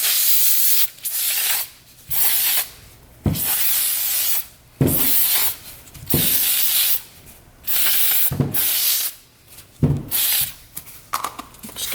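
Foam filter oil sprayed onto the foam air filter of a 1976 Honda Elsinore dirt bike: about nine loud, close hissing spray bursts of roughly a second each, separated by brief quiet gaps.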